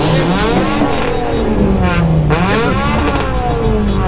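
A tuned import car's engine revs loudly in repeated rising and falling sweeps at a car show track event, the pitch climbing and dropping in two-step bursts close by, with no voices over it.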